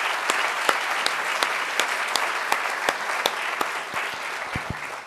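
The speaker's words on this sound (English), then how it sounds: "Let's give a huge round of applause to Dave for his extraordinary leadership" Steady applause from an audience at a StoryCorps teachers initiative launch, a dense even wash of many hands clapping for several seconds at moderate distance, with a few louder individual claps standing out and no talk over it.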